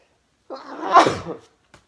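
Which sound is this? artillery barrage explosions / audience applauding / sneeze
sneeze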